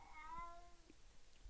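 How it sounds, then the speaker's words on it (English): A single drawn-out cat meow, rising then falling in a thin, wavering tone, faint against a low background hiss, followed by a few quiet bumps. "My cats are going buck wild."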